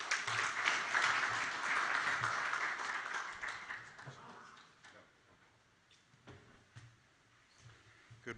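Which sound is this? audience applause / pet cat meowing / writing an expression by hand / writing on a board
audience applause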